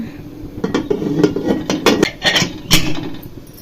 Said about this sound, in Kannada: ಇವಾಗ ಕುಕ್ಕರ್ ಕ್ಯಾಪ್ನ ಕ್ಲೋಸ್ ಮಾಡಿ ಒಂದು ಮೂರು ವಿಜಲ್ ಕೂಗಿಸ್ಕೊಳ್ಳೋಣ